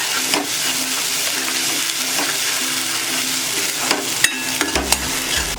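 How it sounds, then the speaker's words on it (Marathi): Garlic and ground masala paste fry in a pan over a low gas flame, giving a steady sizzle and crackle with a few stirring scrapes near the end, close and without talk. "लसूण थोडं आपल्याला करपवून घ्यायचे आहे। वाटण घालून घेऊया।"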